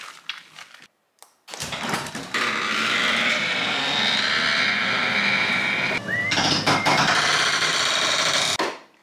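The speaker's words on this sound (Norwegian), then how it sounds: "Kanskje jeg skal kjøre litt drone?" A camera drone takes off and flies nearby, giving a loud, steady high-pitched propeller whine that holds for about seven seconds with a brief pitch shift midway, then cuts out abruptly.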